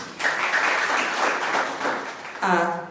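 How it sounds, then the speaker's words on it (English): An audience at a conference on under-utilised crops gives a warm round of applause for a speaker, a full steady clapping that swells and eases, cut off near the end as a voice begins talking. "Let's give her a warm round of applause."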